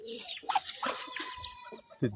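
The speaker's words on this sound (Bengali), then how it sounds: "কিছু হাঁস, চীনা হাঁস, একটা রাজা হাঁস, কিছু মুরগি" Chickens cluck and chatter close by in a busy mix of short calls among ducks, with a voice speaking over them.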